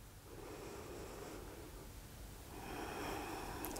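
Slow, deep breaths during a bedtime yoga stretch: soft, airy inhales and exhales, quiet and close, with a long fuller breath near the end.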